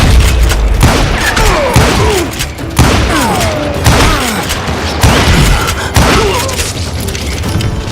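Gunfire in the western shooter Call of Juarez Gunslinger: loud, heavy shots with booming, echoing tails, fired in spaced bursts every second or two.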